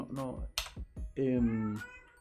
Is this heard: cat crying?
yes